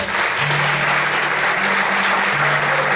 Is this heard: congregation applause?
yes